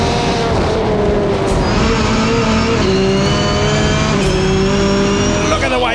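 A Subaru launches hard at the Goodwood hill climb, its engine revving loudly as it accelerates through rising and falling gear pulls, with crowd noise behind.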